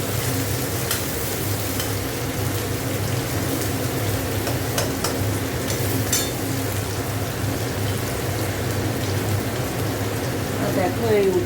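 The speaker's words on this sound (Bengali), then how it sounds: "উচ্ছে আলুটা ভেজে নেব" Bitter gourd and potatoes fry in a wok, a dense, steady sizzle like rain with occasional stirring clinks and scrapes, running continuously and fairly loud.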